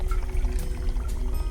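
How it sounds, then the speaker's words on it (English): Water poured into a vessel for a heat conduction demonstration, a steady continuous pour with faint splashing, close and moderately loud, with no speech. "Now, if we pour some water into this vessel,"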